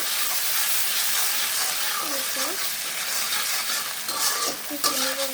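Whole cardamom, cinnamon sticks and bay leaves being stirred in hot oil in a cooking pot for khichuri, a steady sizzle with scraping spoon strokes, close and fairly loud, with a faint voice in places.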